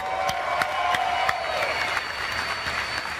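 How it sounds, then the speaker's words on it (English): A crowd at a Dodge Demon launch event applauds Vin Diesel, dense clapping and cheering with a few sharp individual claps standing out, steady and lively for the whole stretch. "Round of applause"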